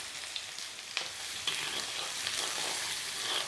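Sliced onions fry in hot mustard oil with black cardamom, cloves, black pepper and cinnamon for a spinach kofta curry. A steady close sizzle carries throughout, broken by a few faint stirring ticks, and no one speaks.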